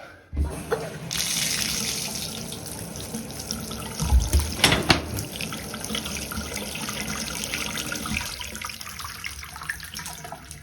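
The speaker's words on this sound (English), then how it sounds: "And now the water should drain clearly, and we can quickly test that." Water runs and gurgles down a bathtub drain that has just been cleared of a slow clog, a steady broadband rush lasting several seconds with a louder swell midway, close by and with no voices.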